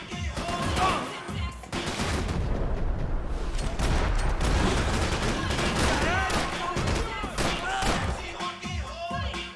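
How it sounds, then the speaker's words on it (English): Gunfire in the video game Max Payne 3: rapid shots and bursts crackle in close succession with echoing impacts, while voices talk over the action. "I like how I'm putting one bullet in and then firing."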